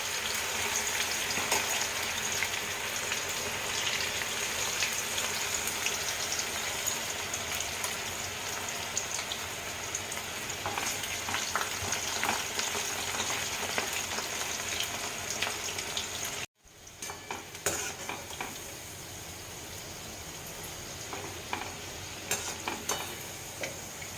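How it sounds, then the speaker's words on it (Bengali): Okra frying in hot oil: a dense, continuous crackling sizzle heard up close for a long stretch, with one brief cut partway through. "এইভাবে গরম তেলে অল্প অল্প করে ভিন্ডিগুলোকে ফ্রাই করে নিতে হবে"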